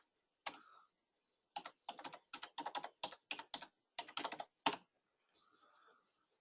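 Keyboard typing in quick bursts of clicks, with short pauses between runs and a few isolated keystrokes, close and clear with no talking.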